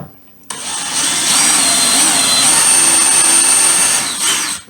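A power drill drives a screw through door trim into a 2x4 stud behind it, its motor whining loudly and steadily for about four seconds, close up.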